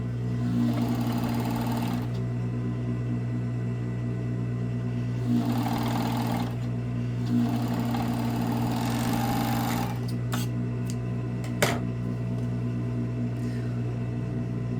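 An overlock sewing machine runs steadily as it stitches and trims the fabric of a baby bodysuit with its small cutting blade. The loud, even motor hum carries through the whole clip, with brief stops and restarts and a few light clicks, and no talking.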